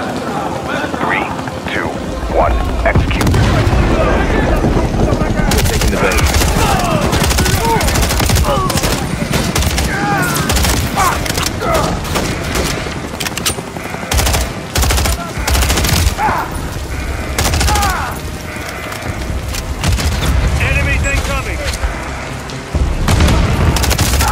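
A breaching charge blast and sustained rapid gunfire during a Call of Duty: Modern Warfare 3 campaign assault, loud booms and automatic fire bursts layered with radio chatter and shouted commands.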